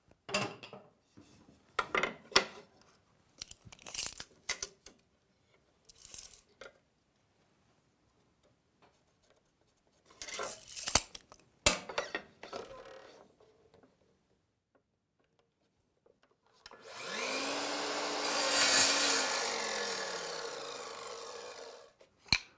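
A power saw cutting 12-inch wood stretchers for a shop bench in a workshop. Scattered ticks and clunks of handling come first, then the motor winds up and roars through a single cut lasting several seconds.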